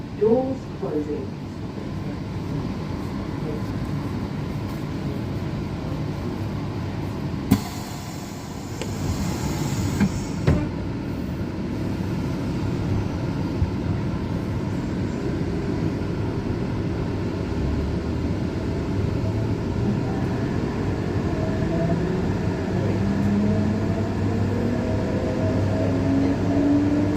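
Perth suburban electric train on the Armadale Line, a steady low rumble of rolling wheels and motors heard from aboard, with a brief door-closing burst early on and a rising tone as another train passes, speech intermittently over it.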